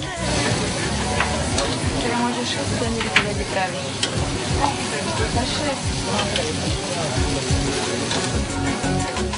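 Bosnian köfte, onion meatballs dipped in olive oil and then grilled, sizzle and crackle at a kebab restaurant in Skopje's Turkish bazaar. The hissing fry noise is continuous and fairly loud, with small pops throughout.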